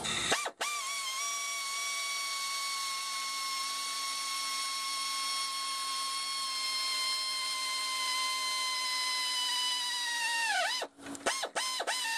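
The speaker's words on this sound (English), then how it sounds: "I'm gonna drill out this hole" A steady high-pitched whine of a drill running continuously for about ten seconds, stopping briefly near the end with a couple of short revs.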